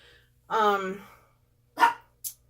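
A dog gives one drawn-out bark followed by two short, sharp yips, distinct and fairly close against a quiet background.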